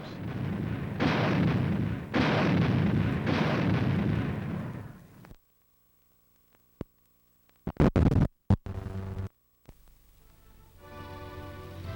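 An automatic anti-aircraft artillery gun fires. Several seconds of heavy, rolling blasts are followed by a silent gap, then a few sharp, loud reports close together.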